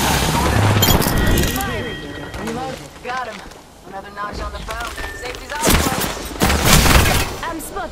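Gunfire in the video game Apex Legends, a dense bursts-and-pauses fusillade of loud, close shots mixed with other game effects, while voices talk over the action.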